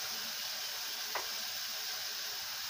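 Onion gently sautéing in a pan for ful medames gives a faint, steady sizzle throughout, broken by one brief soft tick partway through.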